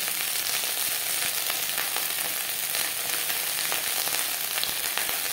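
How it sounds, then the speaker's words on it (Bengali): Steady crackling sizzle of jute leaves frying in hot oil over a low to medium flame, with occasional sharper pops and stirring scrapes throughout, no voices. "পাট শাক ভাজবো লো টু মিডিয়াম ফ্লেমে"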